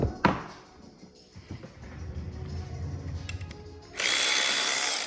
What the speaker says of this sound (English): let's wire brush this all down and get some paint on it. We'll do that right here with a bench grinder.